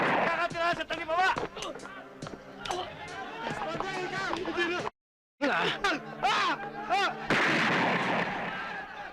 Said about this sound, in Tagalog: Putok yun ah!